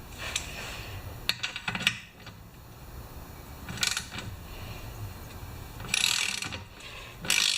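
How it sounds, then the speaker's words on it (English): Half-inch ratchet wrench run through adapters down to a 5/16 deep socket, backing out bolts on a 1968 Homelite XP1020 chainsaw gas tank; short bursts of ratcheting clicks come in separate spells with quiet gaps between. "I'm using a 16-inch half-inch ratchet with an adapter to a 3/8 with an adapter to a 1/4 inch"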